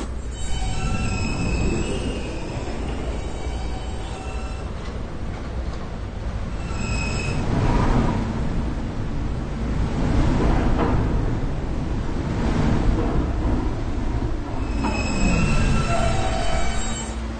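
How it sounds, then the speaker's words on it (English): A New York subway R160 train pulls out of Fordham Avenue station, giving off a continuous loud rumble with rising and falling wheel squeals and whines as it gathers speed. "This is a Calgary Street bound E train via the B line."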